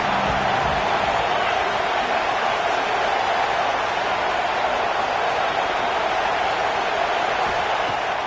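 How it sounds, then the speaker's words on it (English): A dense, steady roar from a packed football stadium crowd at an Oklahoma game holds at a constant, loud level throughout, with no distinct cheers or breaks standing out. "This crowd ready to make its presence known."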